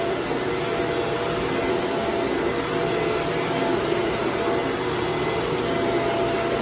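A customer-returned Shark APEX vacuum cleaner runs at full power, a loud, close, steady roaring whine with a constant high-pitched motor tone and no voices.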